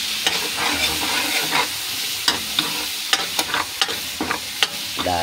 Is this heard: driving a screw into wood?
no